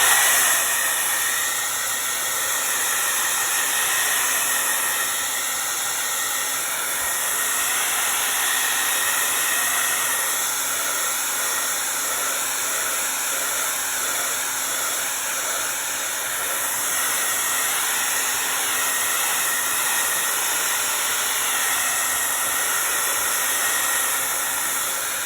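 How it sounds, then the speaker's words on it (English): A steady, loud whooshing blow-dryer hiss runs continuously for the whole stretch with no talking, its airflow noise even and unbroken. "If you have a blow dryer, great, grab it."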